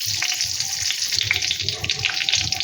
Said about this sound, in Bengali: গোটা সর্ষে, একটা তেজপাতা, আর দেব 3টে শুকনো লঙ্কা।